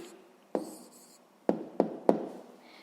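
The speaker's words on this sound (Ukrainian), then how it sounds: "записуємо відповідь" A pen writing a math answer onto paper makes four sharp, close taps and short scratches spread over a few seconds, with quiet pauses in between.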